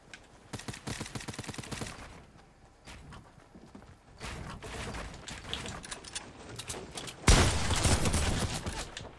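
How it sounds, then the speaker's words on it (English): Fortnite gunfire comes in rapid clattering bursts of automatic shots, several separate volleys spaced across a few seconds, ending with a loud close barrage. "Why are you shooting me, buddy?"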